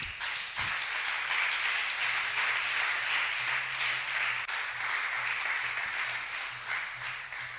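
A congregation applauds and cheers at a French-language church service, steady sustained clapping with crowd noise throughout, fairly faint and even.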